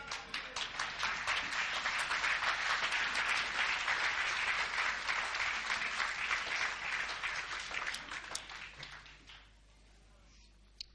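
A church congregation applauds together, a dense, loud burst of many hands clapping that holds steady for several seconds and then fades out, with faint voices mixed in.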